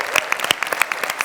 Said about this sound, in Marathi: मला वाटतं एकदा आपल्या आर्ट टीमसाठी जोरदार टाळ्या झाल्याच पाहिजे.